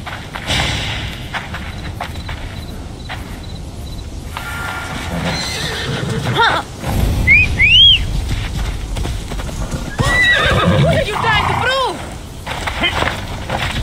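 A horse in Assassin's Creed Odyssey clip-clops along with hoof beats and gives a couple of sharp neighs, while people talk over it.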